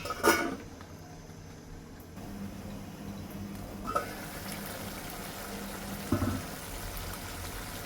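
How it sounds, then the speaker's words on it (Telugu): A pot of red chilli chicken curry boiling, giving a low bubbling simmer that runs continuously, broken by a few louder clinks and knocks of a utensil near the start, middle and end. "బాయిల్ చేసుకుంటాం."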